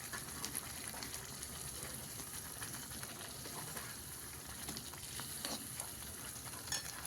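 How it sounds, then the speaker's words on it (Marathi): Eggs being stirred into masala in a frying pan, a dense, continuous sizzle with soft scraping strokes close by. "त्यामध्ये अंडे सोडून घेऊया आता थोडंसं हलवून घेऊया"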